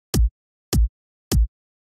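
Three deep, punchy kick drum sample hits from a remake of a song, evenly spaced, each a short booming thump with a quick click on top, heard alone.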